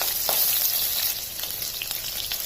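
Chopped onion, added with cumin and bay leaf, fries in hot oil. The sizzle is loud, close and continuous, with faint stirring scrapes throughout.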